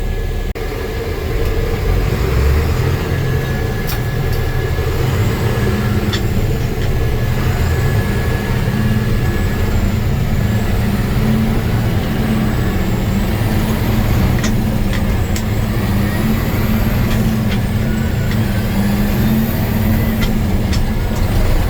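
An old truck drives along with its engine droning loud and steady from inside the cab, road rumble constant, a few faint squeaks and clicks overhead, no talking.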